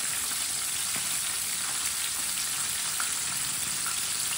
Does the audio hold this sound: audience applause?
no